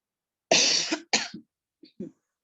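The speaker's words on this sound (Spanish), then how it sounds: "Tengo un poco de tos." A person gives two harsh, close coughs in quick succession, followed by a couple of small throat-clearing sounds in an otherwise quiet room.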